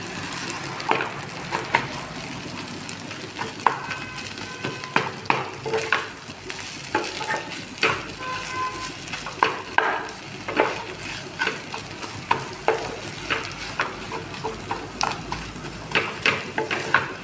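Fish heads fry with chopped banana flower in a pan, giving a steady close sizzle broken by repeated scraping stirs of a spatula all the way through, with no voices.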